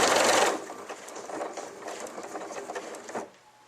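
Elna Lotus computerized sewing machine stitching rapidly to finish a stitch pattern, a steady close whir of needle strokes with a louder burst at the start, then stopping abruptly.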